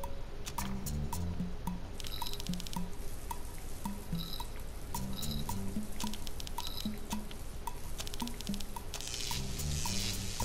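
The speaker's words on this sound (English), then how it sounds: "maybe if I turn the water on at the same time" Water running from a tap in a video game, heard as a repeating pattern of light drips and trickles over a steady background hum.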